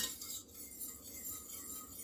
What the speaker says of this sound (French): Et avec le feu, on brasse constamment.